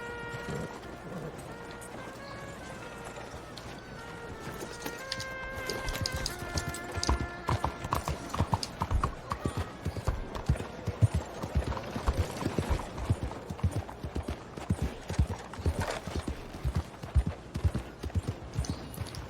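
Horse hooves clip-clop in Red Dead Redemption 2, starting as a slow walk beneath sustained musical tones and building into a brisk, rhythmic trot of sharp, close hoofbeats that continues steadily to the end.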